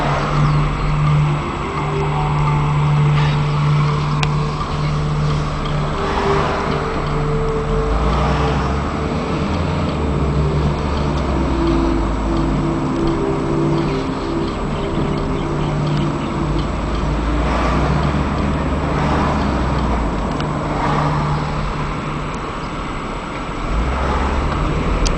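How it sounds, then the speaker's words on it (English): Steady low engine and road rumble from inside a car driving through heavy traffic on Maui at sunset, continuous and fairly loud, with faint swells from vehicles passing nearby. "There's a lot of traffic."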